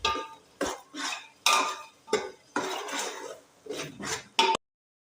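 A spoon scrapes and clatters against a pan while turmeric powder is stir-fried for chicken dum biryani, in a series of separate metallic strokes with short pauses between them.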